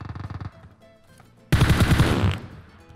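Two bursts of rapid automatic gunfire from enemies in PUBG Mobile, a short volley followed by a louder, longer rattling burst after a brief pause.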